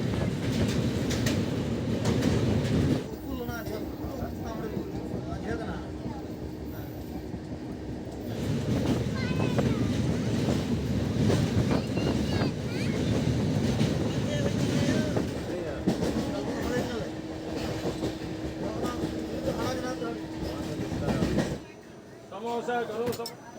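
A passenger train runs steadily, heard from inside an empty compartment, with a continuous rumble and rhythmic wheel clatter that pauses briefly and returns, while a voice talks over it at times.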